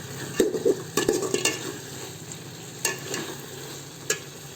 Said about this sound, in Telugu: ఒక 2 నిమిషాల పాటు టమాటా కూడా వేగనివ్వాలండి